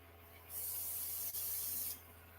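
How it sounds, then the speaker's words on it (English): An airbrush sprays onto a tissue in one steady hiss of about a second and a half, with a brief dip partway through, close up and alone. "And I'll spray it on a tissue so you can see the true color."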